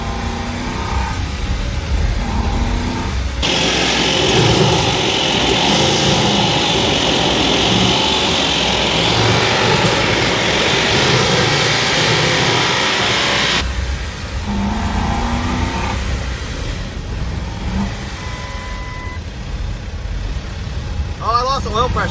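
Ford F150 truck engine being revved with the throttle oscillating, a loud sustained roar that surges and holds for several seconds before dropping back to a lower rumble, with voices talking over it.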